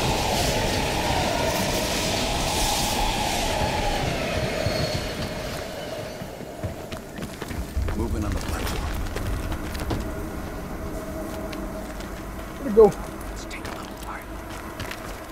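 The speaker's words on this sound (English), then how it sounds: "We can use a train to slip past." A train rumbles past in the video game Call of Duty: Black Ops Cold War, a rolling mechanical roar in an abandoned subway station that fades midway, with clanks and a sharp metallic screech near the end and faint voices over it.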